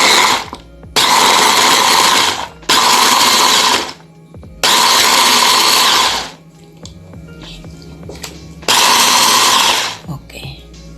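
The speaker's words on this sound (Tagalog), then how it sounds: "i-blender natin." Blender whirring through pumpkin soup in loud bursts of a few seconds each, starting and stopping four times with short quiet gaps and faint kitchen sounds in between.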